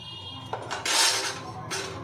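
Carrot and papaya pieces stirred in a pot, with a few clinks and scrapes of a utensil against metal over a low background hum.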